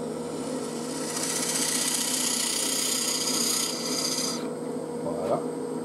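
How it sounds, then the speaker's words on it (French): A drill bores steadily into a small wooden box being hollowed out, a loud continuous grinding rasp that runs for several seconds, then eases and stops near the end. "Et donc, je perce jusqu'à mon aimant."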